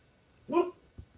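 A dog outdoors, being walked past, gives a single brief bark or yip at moderate distance, followed by a faint softer sound, with no talking.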